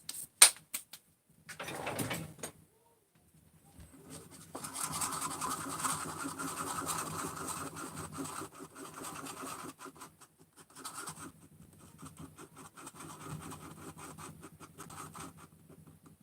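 JB Weld quick-set epoxy being mixed: quiet scraping and rubbing of a stick stirring the paste on a surface, in irregular passes after a few brief clicks and handling noises, close and without talk.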